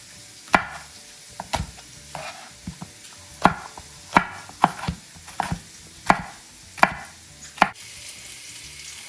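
A knife thinly slices a red pepper on a board, giving a string of sharp close chops in an uneven rhythm, each a crisp tap, with no talk.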